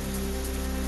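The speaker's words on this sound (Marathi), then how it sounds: "वाशिम जिल्ह्यात अनेक ठिकाणी जोरदार पावसाचं आगमन।" Heavy rain falling across Washim district in Maharashtra, a steady, dense hiss with no voices, close and constant for a brief stretch.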